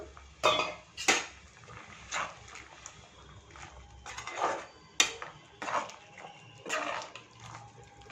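Butter beans are tipped into a boiling pot in several clattering bursts, with metal scrapes and light knocks against the rim, close by.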